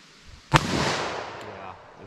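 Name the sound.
40 S&W pistol and .357 Magnum revolver gunshots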